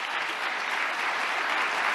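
A large audience at a New York State of the State address breaks into steady, dense applause, an even wash of many hands clapping with no voices over it.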